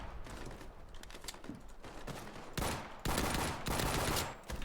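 Grease gun and pistol fire in a World War II shooter game, steady rattling automatic bursts that swell louder in the second half, with no talking.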